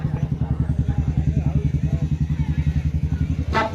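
A motorcycle engine idles with a steady, rapid putter beside a night cricket tournament ground, close and continuous, under a public-address announcer talking.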